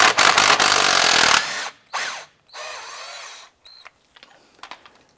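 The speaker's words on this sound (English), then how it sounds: "We're going to use a 13 millimeter socket to loosen this bolt." A power tool with a 13 mm socket loosens a front sway bar link bolt on a 2006-2011 Cadillac DTS: one loud, close whirring burst of about a second and a half, followed by quieter clanks, clicks and handling noises.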